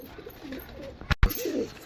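A pair of red pigeons, one male and one female, gives soft low coos close by, with a sharp thump or flutter midway through.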